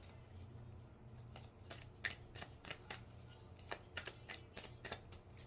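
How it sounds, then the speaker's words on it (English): Oracle cards from a Spirit Allies deck riffled and flicked by hand, a steady run of crisp papery snaps over a low background hum, close and fairly quiet. "I'm going to grab a Spirit Allies card to see if there's anything else we need"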